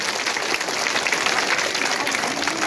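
An audience at a school yoga session and spiritual talk claps together, a dense, loud and steady wash of applause from many hands that holds evenly throughout without talk over it.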